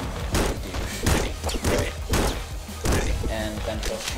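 Gunfire in Nuclear Throne comes as a run of punchy, booming shots spaced roughly every half second over a steady bed of game noise, with a brief electronic tone near the end.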